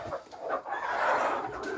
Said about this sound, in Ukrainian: гарні у нас курочки і півники.